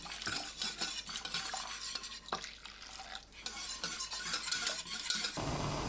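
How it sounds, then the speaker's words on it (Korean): Flour and water are stirred in a metal pot with a utensil, producing continuous scraping and clinking against the pot, close and fairly quiet, with no speech. "냄비에 밀가루 듬뿍 1큰술, 물 400ml 넣고 섞어주세요."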